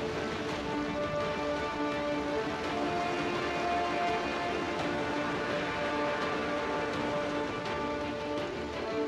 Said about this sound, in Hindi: मानसून की बारिश ने गर्मी के मौसम के खत्म होने का इशारा कर दिया। ये भारी बारिश अब अगले 6 महीने तक आती जाती रहेगी।